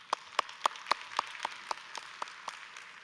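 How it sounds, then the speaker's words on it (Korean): Sparse, slow hand claps in a church, about a dozen evenly spaced sharp claps over a few seconds, fairly quiet with some room reverberation, welcoming a visiting pastor before a sermon. "우리 큰 박수로 목사님 모시겠습니다."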